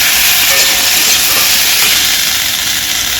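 Garlic, ginger and coriander-cumin paste frying in hot oil, a loud, steady hiss and sizzle running unbroken from start to finish, close and with no voices.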